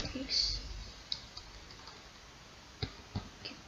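Keyboard shortcut keys on a computer are pressed in a few sharp, separate clicks, near and moderately faint, with a soft hum underneath and no clear talking.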